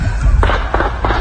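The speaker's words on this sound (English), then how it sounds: "Sounds like a shot." A gunshot in footage from the Gilroy Garlic Festival shooting, heard as a few sharp, muffled pops over a low, rumbling background.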